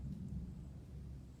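A low, distant rumble of thunder rolls on steadily for a moment, deep and soft, with no voices, during a storm with tornado warnings.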